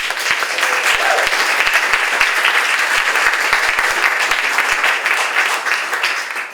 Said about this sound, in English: I would like first for you to give applause to yourselves